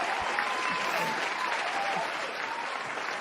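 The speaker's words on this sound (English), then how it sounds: "Round of applause for yourself, man." Applause as a sound effect: dense, steady clapping from a crowd fills the clip at moderate loudness, with no one talking.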